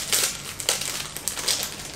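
An individually wrapped Thai 7-Eleven snack's plastic wrapper crinkles loudly and close, in a series of sharp crackling bursts repeating about every half second, with no talking.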